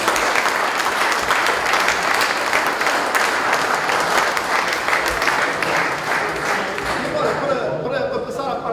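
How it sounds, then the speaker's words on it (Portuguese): A theatre audience at a live show claps steadily, a dense, loud, continuous wash of applause that tapers slightly toward the end. "Uma salva de palmas"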